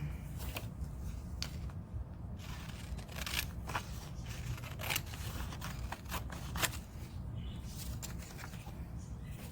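Scissors cut a dashboard picture out of newspaper in quiet, close, irregular snips with soft paper rustle between them.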